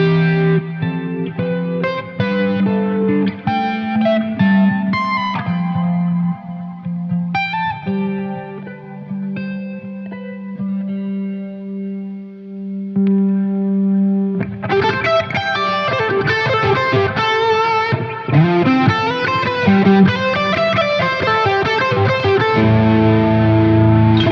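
Huber Orca 59 electric guitar played through an amp on the neck pickup with the volume rolled back, clean arpeggiated picking and sustained notes, then a fuller strummed passage with effects and reverb, loud and alone.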